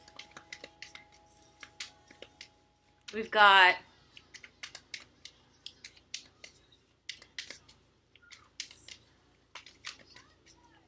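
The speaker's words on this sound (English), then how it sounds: "I'm going to sit here and just shuffle these cards" Tarot cards are shuffled in light, scattered clicks and taps, with one brisk riffle flutter in the middle and a few words spoken quietly.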